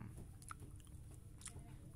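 Faint, close crunching and chewing of crispy salted tempeh chips, a few sharp crisp bites followed by softer mastication, quiet and alone.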